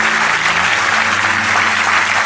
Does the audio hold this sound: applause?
yes